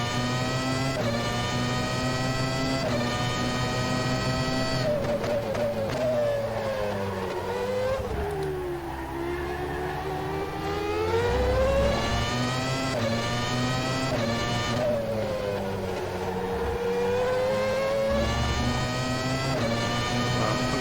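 A loud race car engine in rFactor 2 at Zandvoort screams through repeated revs and gear shifts, pitch climbing and dropping, steady and close with no talk.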